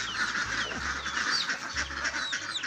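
Ducks quack and chickens cluck together in a noisy, overlapping chorus, close by and constant.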